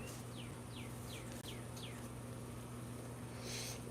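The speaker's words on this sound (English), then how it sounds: "I figured today I would let you guys see a little bit of pretty nature, hear the cute little birds outside." Small birds sing outside in a quick series of four or five descending chirps, followed by a brighter trill near the end, all fairly faint over a constant low hum.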